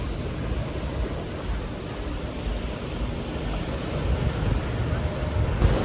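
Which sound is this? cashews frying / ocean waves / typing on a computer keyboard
ocean waves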